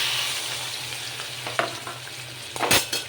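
Turmeric and salt marinated prawns hit hot oil, giving a steady sizzle with a low hum beneath and a few sharp spattering bursts near the end; no one speaks.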